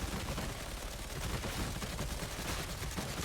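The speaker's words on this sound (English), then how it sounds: "You use the guns for horde clear. You never ever stop shooting them." Guns fire without pause at a horde in the video game Darktide, a dense, continuous wall of rapid gunfire and crackling shots with no gaps and no voices.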